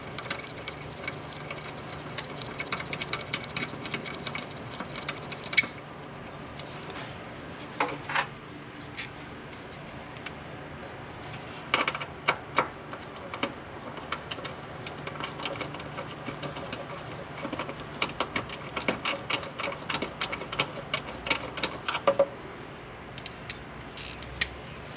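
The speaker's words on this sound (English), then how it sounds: "we'll get our handy dandy ratchet and 10mm socket" Ratchet with a 10mm socket tightening the bolts on the fuel filter of a 1993 Nissan Skyline RB20DET, a steady run of close, quiet clicking bursts with short pauses, no talking.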